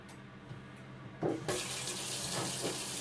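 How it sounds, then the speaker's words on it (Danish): Hot water runs from a kitchen tap, starting with a soft trickle and then gushing steadily and close for a couple of seconds. "Så skal vi tilsætte noget varmt vand. Jeg bruger det fra vandhanen."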